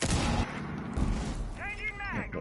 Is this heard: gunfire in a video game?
yes